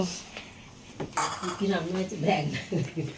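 Plates and cutlery clink and scrape as food is served to family at home, the clatter close and irregular while voices talk over it.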